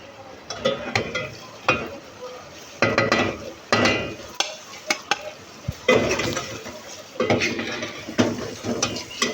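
Okra tumbles into frying masala in a pan and is stirred, with repeated scraping and clattering strokes of a spoon against the pan over a soft sizzle, close and irregular.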